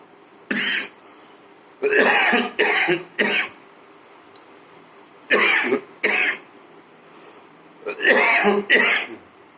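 Repeated bursts of harsh coughing and throat clearing in clusters, close and loud, with quiet pauses between.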